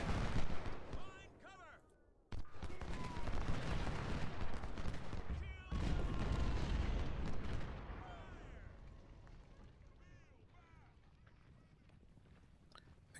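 Cannon and artillery fire in the Ultimate General: Civil War video game produce dense booming, crackling battle noise, loud and continuous, fading toward the end with a voice speaking over it.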